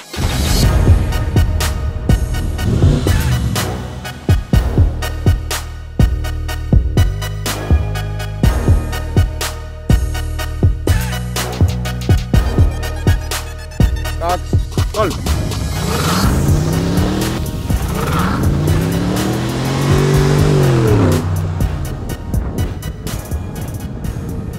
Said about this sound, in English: we will put Nanrobot LS7 Plus side by side with a BMW in a drag race